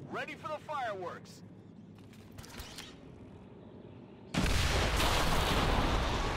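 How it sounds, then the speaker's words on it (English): Explosions from the explosive purifier unit in the XCOM 2: War of the Chosen video game, a sudden loud burst of roaring blast and fire noise that follows brief talk, creaks and clatter. "Yeah, that was the purifier putting everything on fire."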